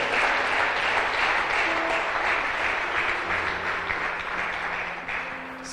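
A congregation applauds at a Spanish-language church sermon, a steady, dense wash of clapping that holds evenly for several seconds before easing slightly at the end.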